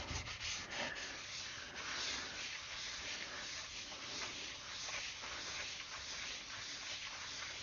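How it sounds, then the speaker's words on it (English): Steady rubbing and wiping as grease is cleaned off brake rotors for a 1959 Edsel front disc brake swap, a continuous close scrubbing hiss without pause, fairly quiet. "Just one of 200 times we'll clean the grease off these rotors."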